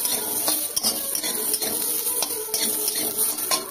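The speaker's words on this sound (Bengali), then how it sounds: "এরপর কিছুক্ষণ কষিয়ে নেব যাতে আমরা কাঁচা গন্ধটা চলে যায়।" Hog plums (amra) sautéing in a pan with spices, a continuous sizzle broken by regular scraping strokes of a spoon stirring against the metal, close and fairly busy.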